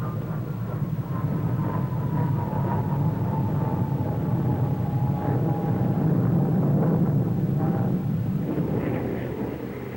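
A jet aircraft at the Farnborough air show roars steadily along the runway, a loud continuous rumble with a slowly falling whine, close and sustained throughout with no talk.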